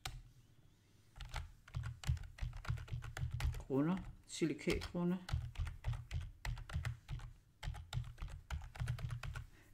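Keyboard typing on a computer while entering a name into paint colour-plan software, steady rapid key clicks running through most of the stretch, with someone speaking Danish in the middle.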